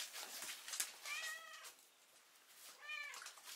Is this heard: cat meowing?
yes